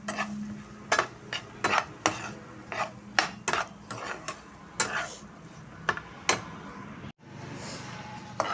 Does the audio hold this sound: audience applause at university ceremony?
no